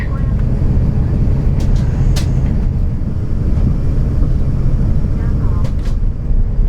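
A China Airlines Airbus A350 taxiing across a runway at Amsterdam Schiphol, heard from inside the cabin as a loud, steady low engine rumble and roar, with a few faint thin tones and small clicks above it.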